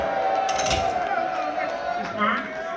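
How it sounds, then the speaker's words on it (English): Concert crowd noise at a hip-hop show at Sony Hall in New York, a busy mix of cheering voices and chatter with a sustained tone running through it. "y'all make some noise"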